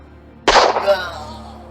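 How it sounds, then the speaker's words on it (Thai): A single sharp gunshot cracks out suddenly after a brief quiet, followed by a short fading echo. "ก็พอดีได้ยินเสียงปืนลั่นขึ้นหนึ่งนัด"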